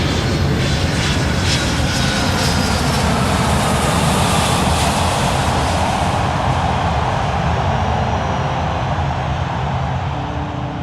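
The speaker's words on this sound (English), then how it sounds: "This aircraft behind me is the actual one that was used for the '95 Rugby World Cup flyover, which Laurie Kay, Billy Fourie and myself" A jumbo jet makes a low flyover above Ellis Park stadium for the 1995 Rugby World Cup, producing a loud, steady, broadband engine roar that fills the whole stretch without fading, with no voices.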